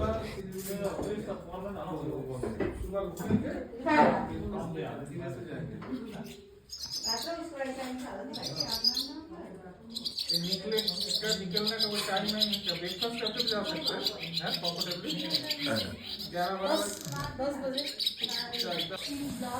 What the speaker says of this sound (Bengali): সোয়ালো পাখির ওড়াউড়ি কিচিমিচি ডাক